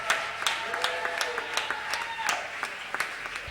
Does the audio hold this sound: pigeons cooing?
no